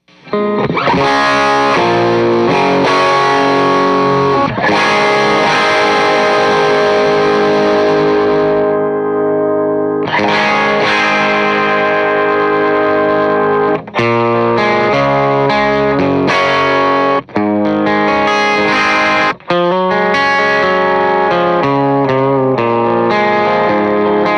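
A distorted electric guitar plays through a Preston Pedals Mason Supro-style preamp pedal, loud chords and riffs with a thick, effected tone, ringing out with short pauses between phrases.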